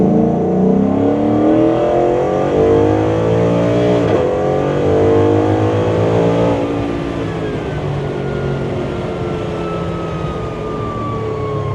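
A 1972 Ford Bronco Heritage Edition with a Coyote 5.0 V8 pulls away, its engine revving up through rising gear pitches, loud and close at first, then settling into a steady drone as it moves off, with no talking.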